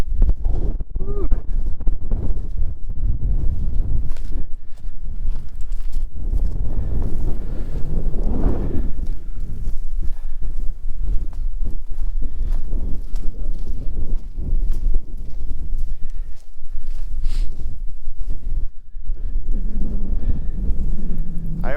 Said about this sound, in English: depending on the direction of the wind, which is right now coming straight from the north